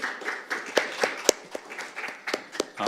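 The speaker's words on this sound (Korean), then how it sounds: "여러분 큰 박수로 소장님 모시겠습니다" A financial forum audience gives scattered applause to welcome a research institute head to the stage, a thin, uneven patter of a modest number of hands with a few sharper claps standing out.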